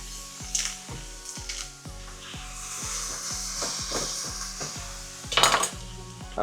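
Onion frying with butter in a pan while making pasta with pork mince, a soft sizzle with clinks of a utensil against the pan, under quiet background music.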